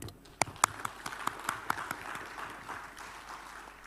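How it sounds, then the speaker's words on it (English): An audience applauding a speaker at a geopolitical forum in Jakarta, a scattered handful of distinct claps at first that thin into a faint, sparse patter. "let us give a big applause for the speaker"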